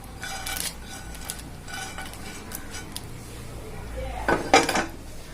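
A spoon clinks and scrapes against a metal pot while milkmaid payasam is stirred, giving a few sharp clatters and a louder burst of metallic knocks near the end, with no talking.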